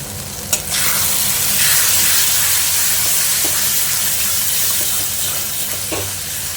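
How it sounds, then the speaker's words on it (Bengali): Spices for Bengali eggplant bharta fry and get stirred in a pan, a loud, dense, continuous sizzle close up after an opening clink, with faint utensil scrapes underneath. "এবার এটাকে ভালো করে নাড়িয়ে নিতে হবে যাতে মশলাটা ভালো করে কষানো হয়"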